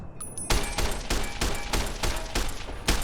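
Gunshots in the video game Fallout: New Vegas: a rhythmic series of about nine loud, sharp shots fired at an even pace, close and alone.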